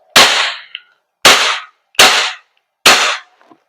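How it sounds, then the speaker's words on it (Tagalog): A WE Glock 17 Gen 5 airsoft gas blowback pistol fires four sharp, loud, close pops at roughly even intervals, each followed by a brief mechanical clack of the slide, with silence between. "so to 4 shots, firing"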